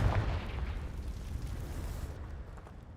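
Confringo blasting spell explosion in the game Hogwarts Legacy, a loud rumbling boom that starts the moment and slowly decays into a low roar over a few seconds.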